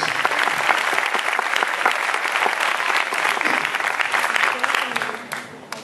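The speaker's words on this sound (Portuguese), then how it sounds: "Vamos aplaudir forte o nome do Senhor." A church congregation applauds loudly and steadily, dense clapping filling the space for several seconds with voices mixed in, before the applause thins out and fades at the end.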